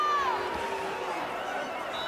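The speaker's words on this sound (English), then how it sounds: "Well, the crowd loves that." A football stadium crowd at a college playoff semifinal cheers in a broad, steady roar with a few whistles and whoops, heard at a distance beneath a commentator talking.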